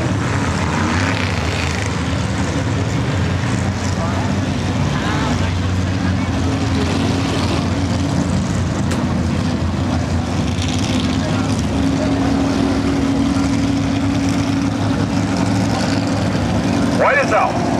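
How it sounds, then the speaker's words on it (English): A Chevy coupe with a 467 big block engine and no mufflers roars around a night race track at Glenridge, a loud, continuous engine drone that rises near the end. "that is a real live 467 big block Chevy underneath the hood of that thing. No mufflers back in those days"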